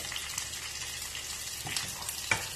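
Garlic curry mixture frying in a pan, a steady soft sizzle with a few faint stirring scrapes, quiet and close with no talking.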